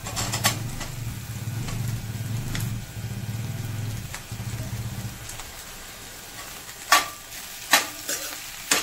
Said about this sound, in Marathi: बटाटा छान मिक्स करून घेऊया. थोडासा परतून घ्यायचा आहे त्याच्यामध्ये.